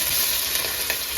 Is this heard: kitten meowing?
no